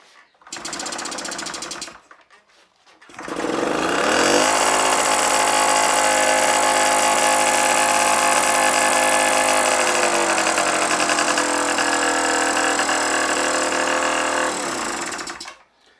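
An engine with a freshly refitted air filter cranks briefly, pauses, then catches and settles into a loud, steady idle that runs for about ten seconds before cutting off.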